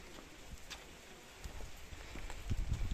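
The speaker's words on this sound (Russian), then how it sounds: "вот дождик капает." Light rain dripping outdoors while someone walks, faint scattered taps and drops against quiet street background that grow a little denser toward the end.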